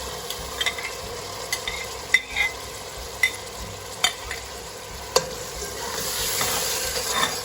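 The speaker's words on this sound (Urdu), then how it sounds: "پیاز کو ہم ابھی بھون رہے ہیں، اچھے طریقے سے بھون لینا ہے۔" Onions with tomatoes frying in a pan while potato and eggplant curry is cooked, a soft crackling sizzle broken by sharp scrapes and clicks of stirring, with the sizzle swelling louder near the end.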